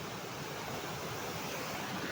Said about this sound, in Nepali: यहाँ चाहिँ खोला छ हामी खोला तर्नु पर्ने हुन्छ